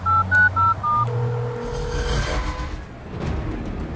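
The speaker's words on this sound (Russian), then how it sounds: "Сейчас, погоди, позвони Руслану." Telephone dialing: four short DTMF keypad beeps in quick succession, followed by a low tone and muffled background noise.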